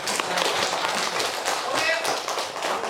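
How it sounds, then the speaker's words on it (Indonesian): A third-grade class at MIN 8 Bireuen in Aceh clapping their hands together, a dense, loud burst of claps filling the room with voices mixed in. "kita kasih tepuk tangan dulu agar semangat"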